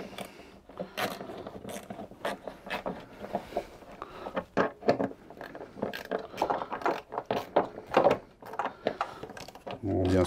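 Three screws tightened by hand on a Peugeot RCZ headlight held by plastic mounting tabs, giving close, rapid ratcheting clicks and small mechanical scrapes in short bursts, with someone talking over parts of it.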